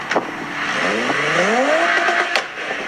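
Tuned car exhaust with an aftermarket chip and a rev limiter near 68, revved hard so the engine sweeps up in pitch, with sharp pops at the start and near the end; loud and close, no talking.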